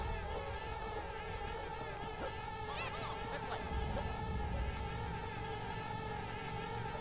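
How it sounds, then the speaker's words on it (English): Wasps in Conker's Bad Fur Day give a steady, droning insect buzz with wavering pitch, constant and moderately close beneath faint background game sound, with no talking. "So these wasps can be kind of annoying"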